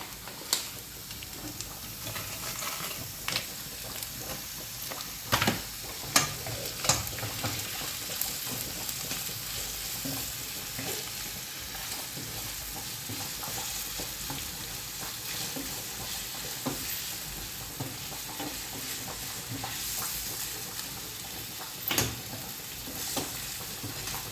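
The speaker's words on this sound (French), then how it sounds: "Une fois que nos oignons sont cuits, donc je vais venir intégrer mes lardons." Lardons fry with already cooked onions in a pan for a carbonara, making a soft, continuous sizzle with occasional light scraping taps from stirring.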